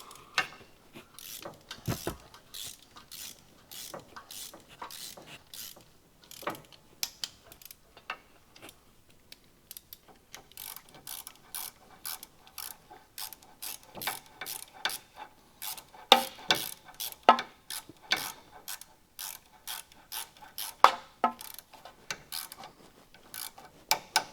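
A ratchet wrench torques the clutch bolts on a McLaren during a clutch service, making bursts of rapid, close metallic clicks with short pauses between strokes, busier in the second half, and no one talks.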